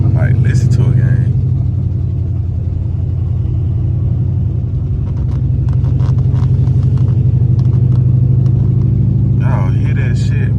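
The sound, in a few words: Dodge SRT8 392 engine running rough and shaking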